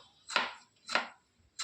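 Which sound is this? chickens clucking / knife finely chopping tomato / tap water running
knife finely chopping tomato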